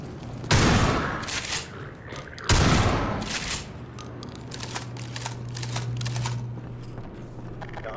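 Shotgun blasts in the video game Half-Life 2 MMod: two loud, close booming shots about two seconds apart, followed by scattered gunfire and a steady low hum.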